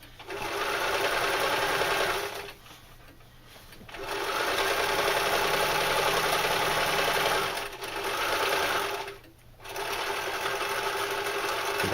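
Sewing machine stitching a leather knife carrier, running in steady whirring bursts of several seconds each with short pauses between runs, close and loud.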